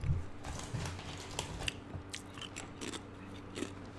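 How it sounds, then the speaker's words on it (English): Multi-grain chips crunch between the teeth right up against the mic, a loud sequence of bites and chews with short crackling bursts over a low background hum. "I'm eating some fucking multi-grain chips."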